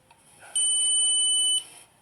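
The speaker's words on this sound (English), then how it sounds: "you just move it along the wall until it beeps" A steady electronic beep holds for about a second, a single high-pitched tone with a sharp start and stop, close by.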